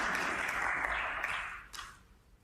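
A snooker crowd applauds at a Northern Ireland Open semi-final, a dense, moderately loud patter of clapping that gradually thins and fades over a couple of seconds.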